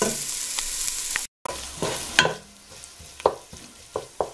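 Onions sweating in a pot for blanquette de veau, stirred with a spoon that scrapes and taps at irregular moments over a gentle sizzle, close, with a brief dropout near the start.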